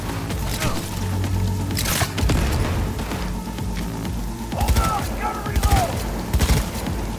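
Arm rocket weapon fired in Cyberpunk 2077, a run of sharp booming blasts and cracks over a busy game soundscape, with a cluster of louder hits near the end.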